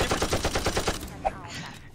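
Rapid automatic gunfire in the video game Rainbow Six Siege, a tight stream of loud, evenly spaced shots lasting about a second before cutting off into a quieter tail.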